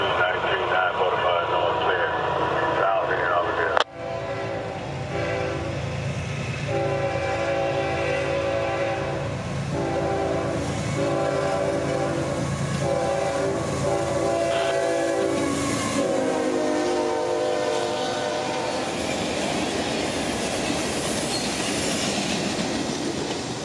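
A CSX freight train led by two six-axle locomotives passes through town on the Carters Sub in Central Florida, its horn sounding in long sustained blasts over a loud, steady rumble and rolling wheel noise.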